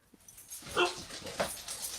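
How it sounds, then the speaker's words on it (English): A dog gives short whimpers and yips, close by, in a few quick bursts over about two seconds with faint background noise. "No, that was my dog."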